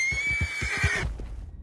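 A horse in the Red Dead Redemption 2 video game gives a loud, close whinny lasting about a second, with hoof clip-clops underneath, then trails off.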